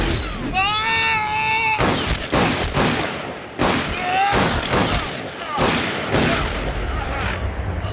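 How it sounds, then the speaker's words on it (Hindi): Gunshots ring out in a Hindi-dubbed action film scene, heard as a series of loud sharp blasts spaced a second or so apart over tense background music. A shout or cry is heard between the shots. "किसने गोली चलाई है?"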